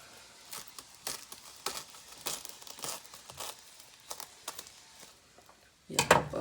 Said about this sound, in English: So I'm using the plastic clear wrap